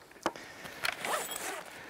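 Fabric zipper on a folding solar panel bag holding four linked panels, pulled in a few short quick rasps, close and moderately quiet against faint background hiss.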